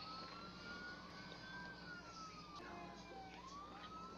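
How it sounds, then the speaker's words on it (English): A police car siren in a video game wails steadily from a distance, rising and falling over a constant low background hum. "let's turn our siren on and let's go do some things today"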